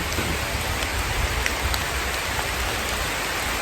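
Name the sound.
rain falling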